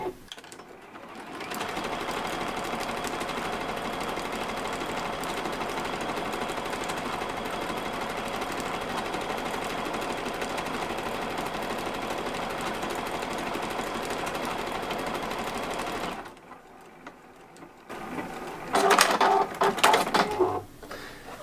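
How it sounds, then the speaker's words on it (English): A computerized sewing machine stitches a decorative leaf-and-twig pattern with lock stitch engaged, a steady close mechanical whirr running about fifteen seconds alone, then a pause and a short burst of higher clicking and beeps. "it continues sewing until it completes the pattern for me"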